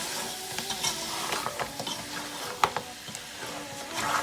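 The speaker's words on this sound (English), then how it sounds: "And then I'm going to give all this a stir." Prawns sizzle in a hot pan while a utensil stirs them, giving a steady frying hiss broken by scraping clicks and knocks close by.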